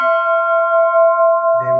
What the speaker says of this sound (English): they will sound this bell in the barracks